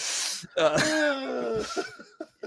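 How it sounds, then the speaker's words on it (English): A single rough cough with a throaty, voiced tail, followed by a few quieter breathy sounds. "he's gonna send me into a coughing fit"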